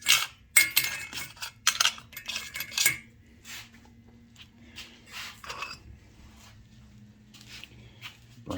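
Small metal parts from a 1959 Tonka pickup toy truck clink and rattle into a wire basket, a cluster of close, bright metallic clatters in the first few seconds, then quieter scattered taps and shuffling.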